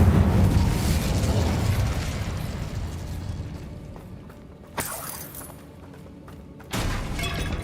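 A burst of fire magic from the Incendio spell in Hogwarts Legacy, a roaring blast that fades over several seconds, with two sharper crackling pops near the end.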